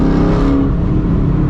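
Modified Chevy Camaro SS muscle car with a loud exhaust revving hard, a deep continuous rumbling roar close by that holds steady throughout.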